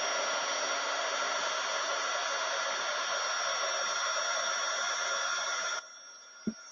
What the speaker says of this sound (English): I got my heat resistant tweezers, holding it down, got my heat gun, and let's go.